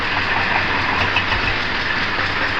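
A Mitsubishi Pajero 4D56 diesel engine runs steadily at idle on a morning start after a recent overhaul, a constant loud rumbling drone heard up close.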